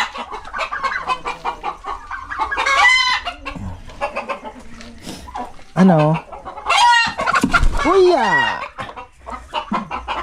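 Farm poultry, turkeys or chickens, cluck and call in several loud bursts close by, with rising crow-like cries, while people talk in Tagalog throughout.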